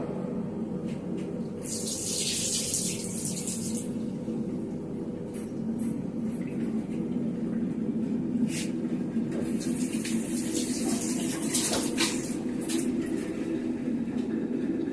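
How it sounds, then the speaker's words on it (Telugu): Water is poured out of a kitchen vessel, heard as a soft, continuous splashing stream with brief brighter gushes, fairly quiet and alone. "ఈ నీళ్ళని పడేద్దాము"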